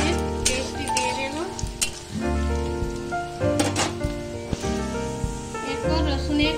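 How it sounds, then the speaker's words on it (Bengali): Onion with ginger and garlic paste frying in a pan over medium flame for a Bengali matar paneer, a steady loud sizzle with stirring scrapes and clatters throughout. "এরপর 5 মিনিট এটা ফ্রাই করে নেব মিডিয়াম ফ্লেমের মধ্যে।"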